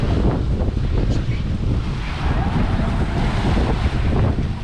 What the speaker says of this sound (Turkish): Çok fazla dalga var.